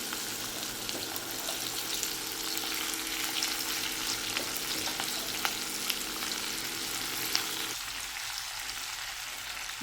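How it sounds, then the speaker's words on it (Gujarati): Chopped ivy gourd and potatoes hit hot tempering oil spiced with asafoetida and turmeric, giving a loud, continuous sizzle that holds steady throughout and eases slightly near the end. "આપણે આ ટિંડોરા બટેટા બંને સાથે જ કાપેલા છે એ વઘારી દઈશું"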